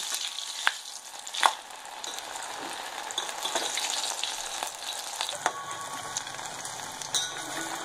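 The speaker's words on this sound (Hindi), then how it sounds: "हम यहाँ पर गट्टे ऐड कर देते हैं। इन्हें हमें फ्राई कर लेना है।" Besan gatte, Rajasthani gram-flour dumplings, fry in hot oil with a steady bubbling sizzle and occasional sharp crackles and clinks, close and moderately loud, with no speech.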